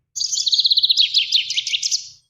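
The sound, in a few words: finch song from recording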